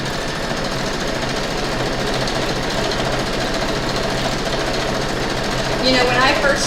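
A sewing machine stitches a quilt block on a folding table, running steadily and loudly with a continuous rattling hum, a brief higher sound near the end.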